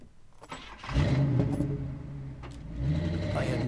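A car engine in the video game Alan Wake starts up and revs, a steady mid-pitched rumble rising and holding close for a few seconds with no talk over it.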